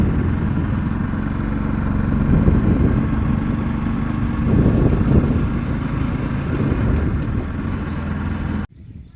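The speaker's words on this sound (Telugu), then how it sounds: "గాలి మర చూసారా, చిన్న మోటార్లో ఉండి గాలి లోపలికి వెళ్తూ ఉండిద్ది." A small motor-driven blower at the entrance of the Belum Caves pushes air into the caverns, giving off a steady, close mechanical hum and whir that continues without a break until a sudden cut at the end.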